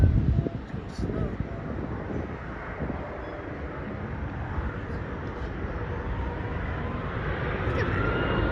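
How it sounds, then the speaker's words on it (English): A Lufthansa Airbus A330 jet arriving from Frankfurt on landing approach at Dulles International Airport gives a steady, broad engine roar with wind buffeting, growing slightly louder toward the end. "We have a Lufthansa A330."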